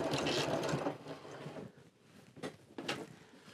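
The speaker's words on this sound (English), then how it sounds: "And we're just going to sew down this edge." A sewing machine stitching down a fabric edge, a close mechanical whir for about a second, then quieter intermittent stitching bursts and clicks.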